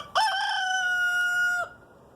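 A single rooster crows once in a garden, a loud, close, drawn-out call lasting about a second and a half, heard alone over quiet surroundings.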